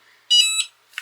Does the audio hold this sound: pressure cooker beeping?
yes